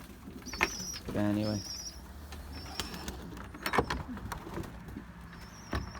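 Racing pigeons coo softly in a loft, with a rolling coo and a few sharp bird calls and knocks around it, close and fairly quiet, while someone speaks briefly.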